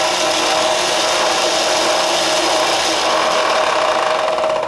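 A homemade power strop machine runs steadily, a continuous close mechanical whir with a faint grinding, rubbing texture that holds at a constant level throughout, with no talk over it.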